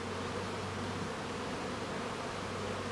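Steady loud buzzing of many Buckfast bees flying around the entrance of a hive in an apiary, a continuous close drone with no voices.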